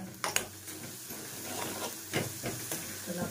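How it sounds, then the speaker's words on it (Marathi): Green chillies frying in oil in a home kitchen pan, a soft steady sizzle and hiss broken by light stirring scrapes and clinks of a utensil against the pan. "तर आपली मिरची चांगली तेलामध्ये भाजते"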